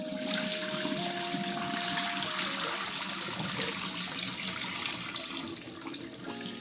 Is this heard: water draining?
yes